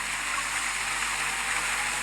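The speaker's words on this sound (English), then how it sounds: "The spring water that had been trickling just moments before now flows endlessly." Spring water in a video game flows endlessly in a steady, broadband rush like a stream or small waterfall, continuous and moderately quiet with no pauses or voices.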